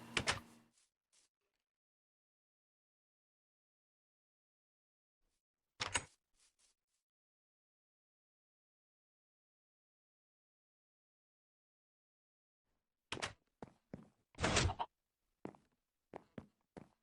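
Wooden door in Minecraft opening and closing as a player steps on a pressure plate: a sharp clunk at the start, another near six seconds, then a cluster of quick thuds and clicks toward the end, with silence in between.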